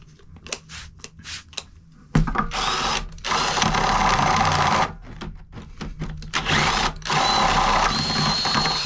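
Drill boring a hole through 6mm steel plate, loud sustained grinding bursts of several seconds each, broken by short pauses and lighter clicks at the start.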